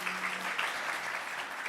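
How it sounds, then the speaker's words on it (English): An audience at a UX night event applauds, a brief, dense burst of steady clapping from many hands at fairly close range, with no speech over it. "A huge round of applause for Avi and Nade,"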